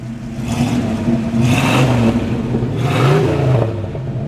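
A 1979 Pontiac Trans Am Pace Car engine revs up three times in quick succession through factory dual exhaust, each rise and fall deep and throaty, close by with no talking.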